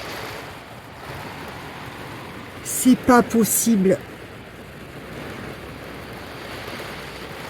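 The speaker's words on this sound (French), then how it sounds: "Il y a des rafales de vent par moment" Wind batters a parked camper van during a storm, producing a constant diffuse roar with gusty swells, briefly overlaid by a woman's short exclamation midway.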